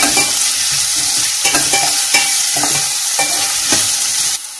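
Onions sautéing for papad curry, heard as a loud, close, continuous sizzle with regular scraping strokes from stirring, with no speech.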